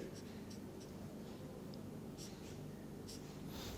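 Chalk or marker on a lecture board: a few faint, light scratchy strokes spaced out over a steady roomy hiss, with no talk in between.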